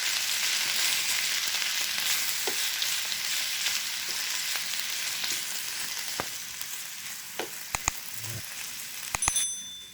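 Mint leaves for pudina chutney sauté in a pan, a steady, fairly loud hiss of frying that eases slightly over time, with a few sharp metallic clicks and taps near the end and no voices.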